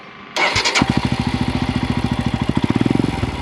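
Royal Enfield Himalayan motorcycle fitted with an aftermarket free-flow exhaust and no dB killer, cranking and firing up, then settling into a loud, close, rapid thumping idle.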